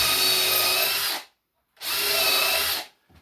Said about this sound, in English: I'm going to drill a hole down in there.